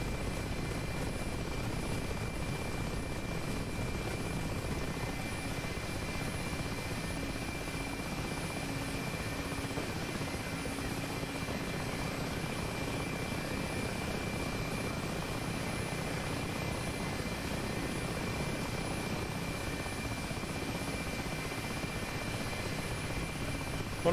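Mi-8 helicopter in the DCS flight simulator, its rotor and turbine engines droning steadily and loudly from the cockpit throughout, a constant thick rumble with a faint high whine and no talking.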